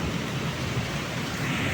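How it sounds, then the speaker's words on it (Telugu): Heavy rain pours down in a thunderstorm, a dense, even hiss with a low rumbling underneath, loud and continuous for a couple of seconds with no voices. "ఉరుములతో కూడిన వర్షం."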